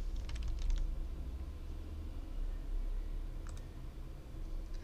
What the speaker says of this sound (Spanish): Luego le dan clic al botón aceptar.